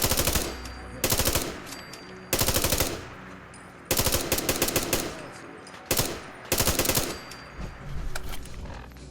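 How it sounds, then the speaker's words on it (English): Automatic gunfire from a Fallout 4 firefight crackles in repeated loud bursts, several sustained volleys separated by brief pauses, with no voices over them. "The bullets start flying, find cover."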